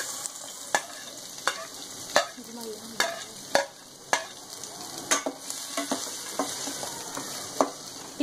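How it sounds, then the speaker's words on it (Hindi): Onions for paneer bhurji hit a hot pan and sizzle steadily, with a spoon clicking and scraping against it in an irregular stirring rhythm, close and moderately loud. "अब हम इसमें डालेंगे प्याज।"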